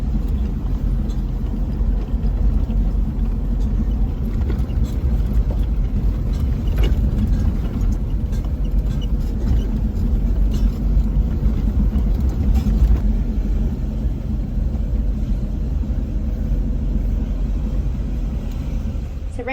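A car with little tread left on its tires drives a rough island road on Fatu Hiva in the Marquesas, giving a steady low engine-and-road rumble with bumps and rattles throughout.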